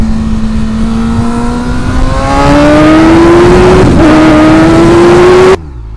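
An old motorbike engine runs under a rider, its pitch climbing steadily through the gears in a loud, close drone with a brief dip, then cutting off abruptly.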